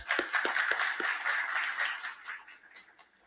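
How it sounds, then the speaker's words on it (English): Audience applause at a conference panel on generative AI, a few sharp claps up front swelling into a steady, moderately loud ripple that fades away toward the end. "Let's give her a round of applause."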